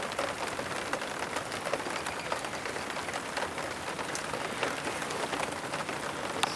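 Steady rain falling on surfaces in Michigan, a dense even patter with occasional louder drops, alone without talk.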